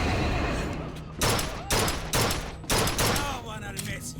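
Gunfire in BioShock Infinite: several loud, sharp shots in quick succession, each with a short ringing decay, over a busy game background.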